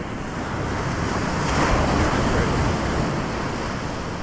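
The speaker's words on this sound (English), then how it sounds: "Just calm, the ocean's calm." Calm ocean waves wash onto a beach on a still morning, a soft continuous surf rush that swells gently in the middle, with light wind buffeting the microphone and no speech.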